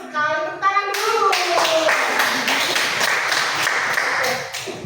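Students in a junior high school classroom break into brisk, dense clapping that runs steadily for several seconds after a brief burst of children's voices, close and fairly loud.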